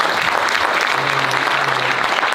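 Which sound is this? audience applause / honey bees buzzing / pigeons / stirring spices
audience applause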